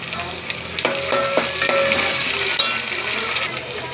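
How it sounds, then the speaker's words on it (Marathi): Tomatoes are tipped into a pan of softened onions and fry with a loud, steady sizzle, while a few scraping clinks of stirring sound close by. "आता टाकत आहे टोमॅटो."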